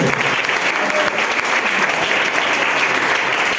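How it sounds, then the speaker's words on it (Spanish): A congregation applauding during a church sermon, dense and sustained clapping from a crowd that fills the space evenly from start to finish. "¿Alguien le puede dar un aplauso al Señor?"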